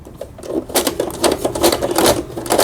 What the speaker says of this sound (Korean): 다시 직선 바느질 와서 땀수를 넓혀보고 촘촘하게 해보고 지그잭 바느질